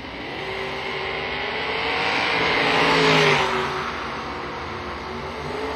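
A Camaro and another drag car launch and race down a drag strip, a loud sustained engine roar that swells to a peak midway as they pass, then eases off, with broad crowd-and-track noise around it.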